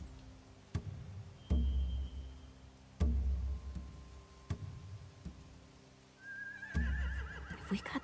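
Horses in The Walking Dead: The Final Season video game whinny and snort several times against a low rumbling background, with a few sharp knocks and a rising high-pitched neigh near the end.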